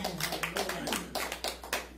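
A church congregation clapping in a quick, steady run of sharp claps, moderately close with a faint voice beneath.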